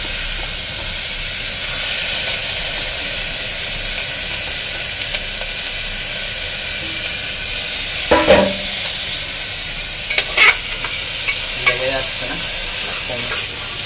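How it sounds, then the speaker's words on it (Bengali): Cooked rice frying in ghee with garam masala and chili in a steady loud sizzle and hiss, with a few scraping stirs of a spatula partway through and no talking. "ঘিয়ের মধ্যে গরম মশলা ফোড়ন দিয়ে, লঙ্কা দিয়ে, ভাতটা দিয়ে ভাজবো"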